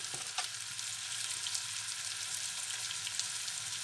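Chopped onions frying in a pan for a brown onion sauce, with garlic powder sprinkled over them, give off a steady, dense sizzle from start to finish, close and even, with a couple of faint taps early on and no voices.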